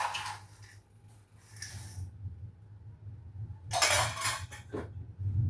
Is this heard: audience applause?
no